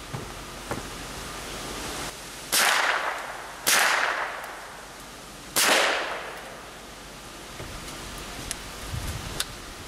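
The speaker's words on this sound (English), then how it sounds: "we're going to use our old Marlin Model 60 here, the old iron sights gun" Three sharp shots from a Marlin Model 60 .22 rifle with iron sights, fired at targets outdoors, each a crisp crack with a short decaying tail, spaced a second or more apart over a quiet background.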